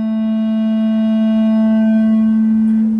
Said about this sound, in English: Here it's completely distorted.